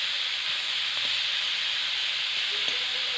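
Shell-on prawns fry in hot oil, giving a steady, loud, bright sizzle throughout, with a couple of faint knocks underneath.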